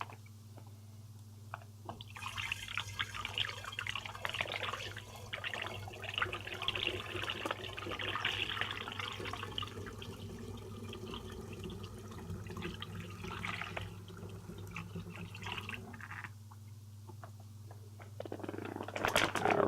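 Grape juice from a Pinot Grigio wine kit is poured into a demijohn, giving a steady, continuous liquid gush and splash that runs for most of the stretch at moderate loudness.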